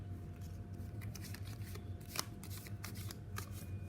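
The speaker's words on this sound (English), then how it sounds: "first let's shuffle the deck" A deck of playing cards riffled and shuffled by hand, a steady run of soft papery flutters and crisp snaps close up, with faint background hum and no talking.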